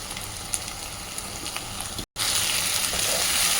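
Chili powder and spices fry in oil for a mutton liver curry, a continuous close sizzling hiss that drops out for an instant, then returns slightly louder.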